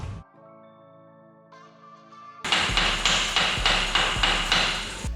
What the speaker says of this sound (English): all it took was some very violent swings of a hammer